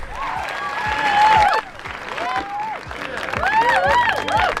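Audience applause at a business strategy talk, a steady round of clapping that swells, dips briefly midway and rises again, with voices and cheering mixed in.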